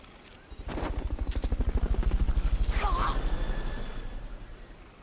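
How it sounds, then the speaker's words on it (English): Helicopter in the Metal Gear Solid: Peace Walker video game, its rotor thumping in a fast steady pulse that swells loud and then eases off, with a brief tonal sweep partway through. "Fulton recovery subject confirmed onboard helicopter"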